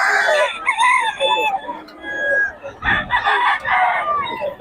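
Several gamecock roosters at a crowded market crow and cluck close by, their loud calls overlapping with barely a pause, with some chatter mixed in.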